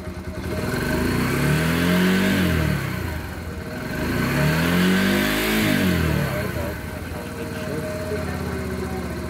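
A Maya Maha XT125X motorcycle engine revs hard twice in rising and falling surges, close and loud, then settles back to a steady idle.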